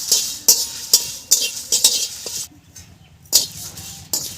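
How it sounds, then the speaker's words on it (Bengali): Whole coriander seeds frying with dried chillies in a pan, stirred with a utensil: a rhythmic run of sharp scraping clinks and rustles over a faint sizzle, with one short pause before the stirring resumes. "গোটা ধনেটা আর একটু ভাজা হয়ে আসলে তারপরে জিরেটা দেব।"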